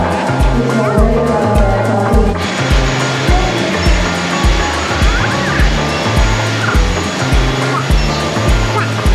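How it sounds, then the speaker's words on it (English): A loud, steady engine roar of an airplane landing at an airport in the Philippines dominates throughout, with a rhythmic rumbling pulse underneath. "So I think it's a plane. Hear it?"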